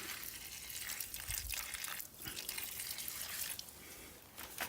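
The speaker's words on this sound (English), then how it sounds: "So I'm just gonna wash the chain off in some" A motorbike chain being washed in petrol, with steady liquid sloshing, splashing and dripping close by that run continuously, plus a couple of brief heavier swishes.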